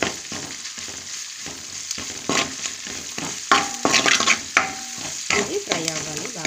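Onions, green chilies and ginger garlic paste fry in a pan for a fish curry, with a busy sizzle broken by repeated spatula scrapes and clinks close by, plus a few brief tonal blips and no clear talk.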